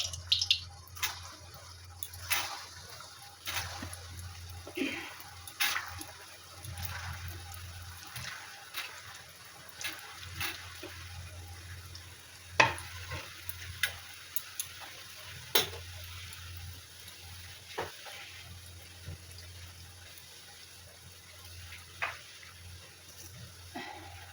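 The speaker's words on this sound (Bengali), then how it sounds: "দেখো বন্ধুরা, তেল গরম হয়ে গেছে। এবারে আমি এই গোল্লাগুলো ছেড়ে দিলাম" Gulab jamun dough balls fry in hot oil with a steady low sizzle, a soft bubbling hum broken by frequent sharp pops and crackles, close and fairly quiet, with no voices.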